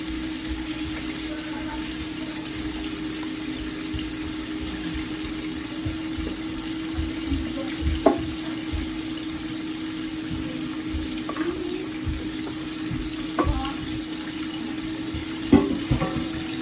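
Water running steadily from a kitchen tap while making garlic noodles, a constant close flow with a low hum beneath and a few faint clinks and splashes scattered through.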